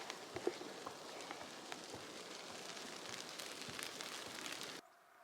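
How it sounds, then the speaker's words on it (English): Light rain sprinkles steadily on a mountain trail, a soft continuous patter with scattered distinct drops, close and faint, cutting off abruptly near the end. "still sprinkling rain."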